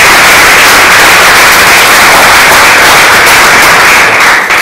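Audience applause in a hall welcoming a reconfirmed basketball sporting director, a loud, dense and steady burst of clapping that holds for several seconds before easing slightly at the end.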